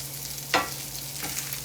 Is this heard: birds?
no